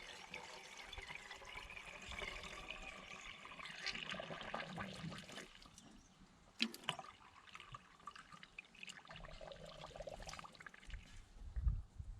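Water being poured to fill the cooling system of a Massey Ferguson 3505 tractor, a steady splashing, trickling flow running throughout with a few brief louder knocks, fairly close.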